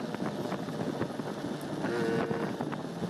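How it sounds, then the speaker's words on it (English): Lawn mowers running around a residential neighborhood make a steady, distant motor drone that sits in the background throughout, with a faint tonal hum rising briefly near the end and no voices. "So you might hear some mower noise in the background."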